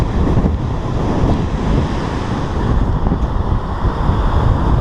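Prometheus waterfall in Iceland roars as a steady, loud wash of falling water mixed with gusting wind buffeting the microphone, continuous throughout with no voices.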